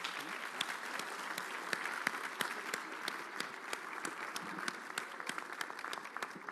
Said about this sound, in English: So I would ask everybody just to applaud the speakers